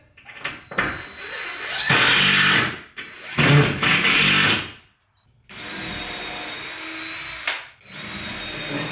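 Cordless power drill driving into 2x4 wood framing in a garage, three loud bursts of whirring with short pauses between, the last run long and steady.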